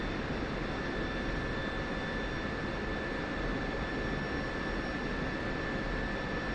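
Steady broadband jet roar from an aircraft in a flight video game, holding constant and loud throughout with thin whining tones above, no voices.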